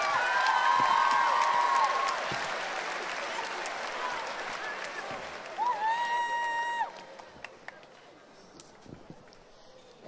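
Audience at a school house music competition applauds the judges. Steady, moderately loud clapping with a few whoops runs for several seconds, then thins out into scattered claps.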